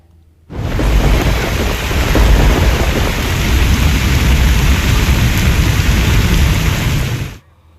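Heavy rain roars steadily for several seconds with a deep rumble of thunder and wind underneath, starting and stopping abruptly, during a thunderstorm in Kheda, Gujarat.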